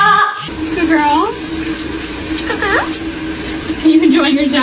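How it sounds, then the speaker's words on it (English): Water runs steadily from a tap as a pet parrot showers, a continuous splashing rush with the bird's short whistling chirps and a person's voice over it. "Are you enjoying your shower?"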